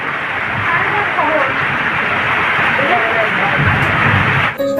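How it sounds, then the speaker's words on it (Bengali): Steady, heavy rain falls after a storm during a power outage, a dense continuous hiss that holds nearly the whole way through, with faint voices murmuring underneath before it cuts off abruptly at the end. "এখন বৃষ্টি হচ্ছে"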